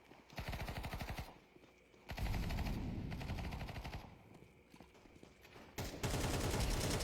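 Gunfire in Counter-Strike plays as rapid automatic bursts of rattling shots, several separate volleys broken by short quieter gaps and dense at the start and end, with no speech.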